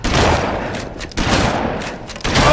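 Shotgun fire in a zombie video game, three loud, close, booming blasts, each followed by a brief decay, spaced about a second apart.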